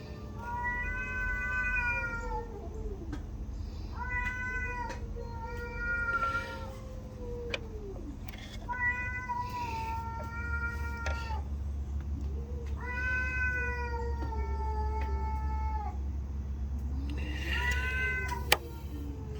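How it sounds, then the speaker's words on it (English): Cats yowling and caterwauling in long, drawn-out wailing meows that rise and fall in repeated bursts over a low steady hum, loud and close. "Crazy cats."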